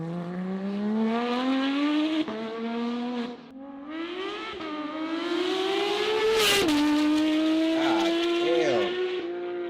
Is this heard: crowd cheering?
no